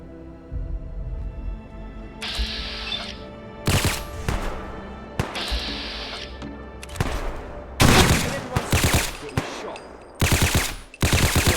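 Automatic gunfire rattles in the video game Fallout London, with rapid bursts and single heavy shots in repeated volleys that alternate with short gaps against a low game background, loud and close.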